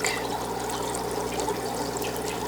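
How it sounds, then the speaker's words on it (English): Remaining water poured steadily into an aquarium during angelfish breeding, a continuous close splashing trickle that holds evenly throughout with no talk. "I'm just going to pour the remaining water, in case there's a small little egg or two in the water, right into the tank."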